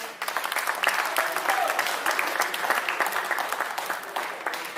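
Audience applause at a concert of Logudorese guitar songs in Ozieri, a sustained wash of many hands clapping throughout, steady and fairly loud with a slight fade at the end.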